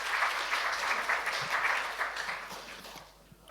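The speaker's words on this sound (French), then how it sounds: "Tu peux applaudir le Seigneur" A congregation applauds during a Sunday church celebration, a steady wash of many hands clapping at moderate distance that thins out and fades toward the end.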